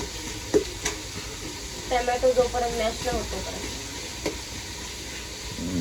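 Soybean biryani ingredients being stirred and sautéed in a pan, with a steady sizzle and scraping stir strokes, a few brief clatters, and faint voices in the background.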